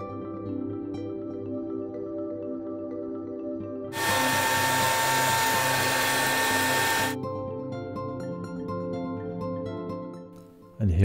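Hair dryer drying paint on a polymer clay model roars in for about three seconds as a loud, steady whoosh over quiet background music, then cuts off.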